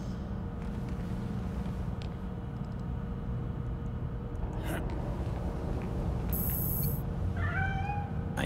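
A cat meowing in the Gotham Knights video game, a short pair of rising meows near the end over a steady low ambient hum, with brief clanks beforehand and no talk.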